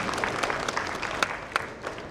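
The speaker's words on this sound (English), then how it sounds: "Round of applause for all the new meditators." A room of people applauding new meditators at a World Meditation Day gathering in Atlanta, a brisk, dense patter of hand claps with a few sharper individual claps standing out.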